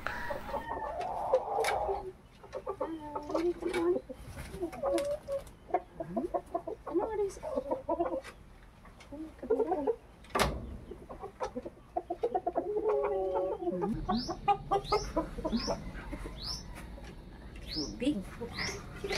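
Backyard chickens and roosters, including a young, heavy Brahma rooster, cluck and squawk in scattered bursts near and far, with a person talking over them.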